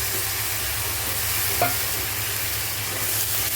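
Chopped tomato sizzles and fries with onion and garlic in a pan, a steady close crackle with a brief stirring scrape partway through and no talking.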